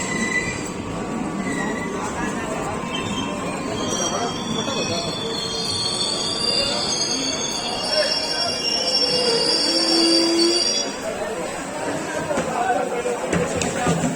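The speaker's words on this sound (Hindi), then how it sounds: "आजमगढ़ कोलकाता एक्सप्रेस प्लेटफॉर्म संख्या 2 पर आ चुकी है।" Azamgarh–Kolkata Express pulling into platform 2 at Ballia railway station amid a heavy crowd, with steady wheel squeal and rumbling rail noise lasting throughout, a shrill brake screech near the end, and busy platform chatter underneath.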